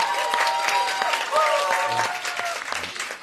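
Audience applause at a crosstalk comedy show, dense and sustained clapping from a crowd filling the whole stretch, with a voice speaking over it.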